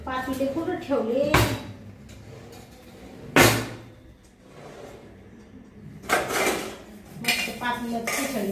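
Cooking pots and utensils are handled in a home kitchen, with loud metallic clanks and clatters at irregular intervals, the sharpest near the start and in a cluster toward the end, while someone talks throughout.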